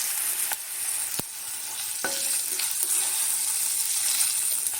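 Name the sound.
dried red chillies and fenugreek seeds frying in oil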